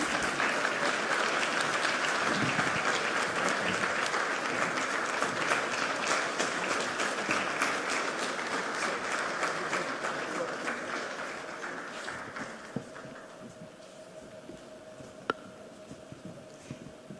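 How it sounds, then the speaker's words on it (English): A large audience at a formal African health sovereignty gathering applauds an arriving dignitary, with dense, sustained clapping that slowly thins out and fades near the end. "Please keep clapping."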